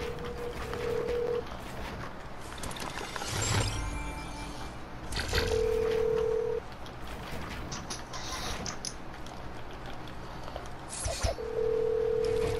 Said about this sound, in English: Boys, we got a live phone call.